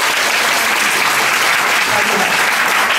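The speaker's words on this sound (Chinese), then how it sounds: "是不是给他们的前面表现掌声鼓励一下？" An audience at a live improv stand-up comedy show applauds loudly and steadily, a dense wash of clapping filling the whole stretch.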